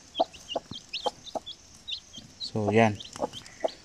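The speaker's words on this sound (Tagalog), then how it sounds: "ang inahing manok na ito is crossbreed sa isang darag native chicken" A crossbreed darag native mother hen clucks in short, repeated soft bursts, with chicks peeping high and quick around her, and one longer, louder call; a voice speaks briefly.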